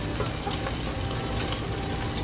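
Diced mirepoix vegetables dropped into a hot soup pot for chicken noodle soup give a steady, close, loud sizzle that holds evenly throughout with no voices.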